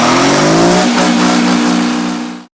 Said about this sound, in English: It was a two-stroke diesel